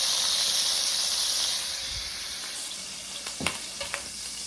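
Tri tip cut into steaks sizzles in a hot pan, a bright steady hiss that eases after a couple of seconds, followed by a few sharp pops and clicks close by.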